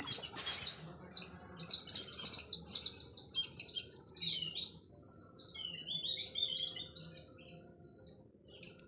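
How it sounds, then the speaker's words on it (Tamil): Many sparrows and parakeets chirping and twittering in quick, overlapping bursts, bright and fairly close, with no voices. "இந்த குருவி சத்தம் இந்த கிளி சத்தம்லாம் கேட்குறதுக்கே ரொம்ப ஆசையாக இருக்குது"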